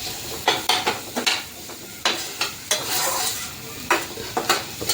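Finely chopped green onions sauté in a pan, a low sizzle broken by repeated scraping and clattering strokes of a spatula stirring against the metal, no talk.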